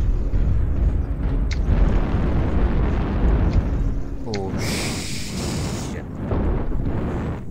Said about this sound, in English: Jump jets!